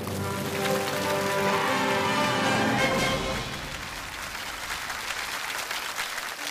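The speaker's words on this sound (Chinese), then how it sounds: "掌声有请刘舰长为我们开讲。" A studio audience claps to welcome a naval captain onto the stage of a televised lecture show. The dense applause swells for about three seconds, then thins and fades under soft background music.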